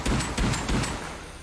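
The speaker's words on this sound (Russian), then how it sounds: "О, фейерверк." A firework bursting in the survival game Rust, a quick run of three sharp crackling pops followed by a fading hiss, loud and close with no talk.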